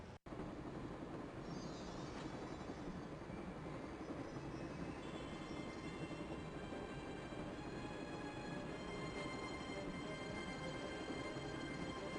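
Train rumbling steadily along the tracks in the point-and-click adventure game Broken Sword: The Shadow of the Templars, a continuous loud rolling clatter with faint high wheel squeal, running alone without talk.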